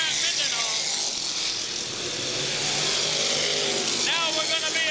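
Race cars roar around a dirt track in a continuous loud, dense engine drone, with revs rising and falling as they pass, and a commentator talks over the noise.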